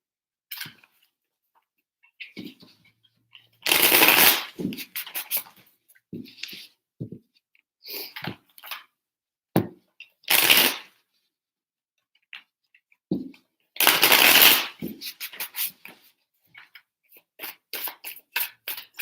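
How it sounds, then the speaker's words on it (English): Tarot cards are shuffled in several separate bursts of riffling and snapping, with quieter handling clicks and taps between them, close up and with no talking. "3 shuffles for Sagittarius."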